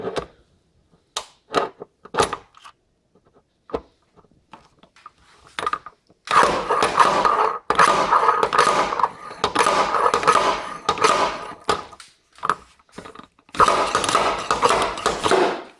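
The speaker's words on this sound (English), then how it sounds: "Let's grab our slide hammer" Sharp metallic knocks from a slide hammer pulling a dent with a stud welder come in irregular bursts, then grinding noise surges loudly in long stretches, with short pauses between the rough, harsh passages.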